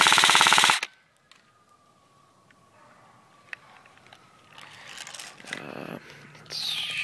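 An Ignite Black Ops M4 Viper BB gun fires a fast, loud burst of shots that cuts off abruptly, followed by quiet outdoor ambience and a few scattered taps and rustles.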